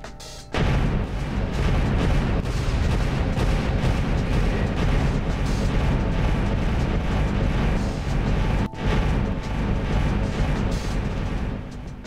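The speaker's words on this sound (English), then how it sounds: "Them some loud guns." Loud guns firing continuously in the space game Starmade, heard from far away as a dense, unbroken roar of booming blasts with one brief gap.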